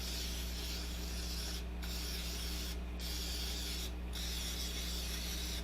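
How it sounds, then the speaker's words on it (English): Non-stick cooking spray sprayed into a metal muffin tin, a steady aerosol hiss in long bursts separated by three brief pauses, close and continuous with no voices. "we are going to spray it with non-stick cooking spray"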